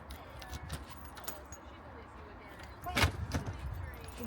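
Keys jangle in short metallic bursts near a car, a soft clink early on and a brighter jingle in the middle, heard close under someone talking.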